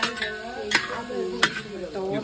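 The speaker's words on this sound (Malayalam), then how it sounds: "അങ്ങനെ ഞങ്ങൾ അതിസാഹസികമായി പോർക്കിൻ്റെ മസാലയിൽ കടക്കുകയാണ്. അപ്പോൾ ഓരോരുത്തരും മാറി മാറിയായിട്ട് ഇളക്കണേ" Pork masala with onions stirred in a pot, two sharp spoon scrapes against the metal over a low sizzling bed, with tonal ringing and hum in the background, close by.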